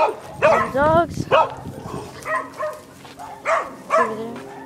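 Dogs bark and yip in short bursts outdoors during pellet gun hunting, close and fairly loud, mixed with people talking.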